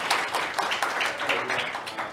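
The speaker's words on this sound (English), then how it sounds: "Let's give him a round of applause." An audience at the Smart Nation Industry Night in Singapore applauds a speaker with dense, steady clapping that stays fairly close and full across the whole stretch.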